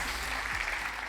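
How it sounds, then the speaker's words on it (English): A steady wash of applause from a crowd, continuous and fairly even throughout, with a faint voice underneath. "There's no applause for you, Marc."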